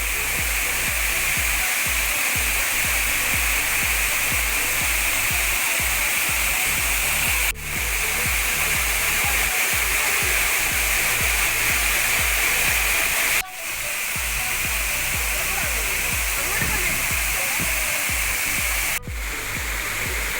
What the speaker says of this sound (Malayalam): ഏകദേശം രണ്ടാമത്തെ വെള്ളച്ചാട്ടത്തിൻ്റെ അടുത്തേക്ക് നമ്മൾ എത്താറായിട്ടുണ്ട്. വെള്ളച്ചാട്ടം കാണാൻ നല്ല ഭംഗിയാണ്.